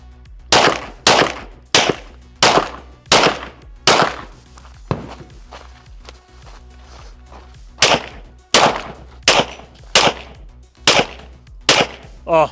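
A pistol fires in a USPSA classifier stage, sharp loud cracks repeating in quick rhythmic strings, about fourteen shots with a brief pause mid-string and a faint reload clatter before the final run.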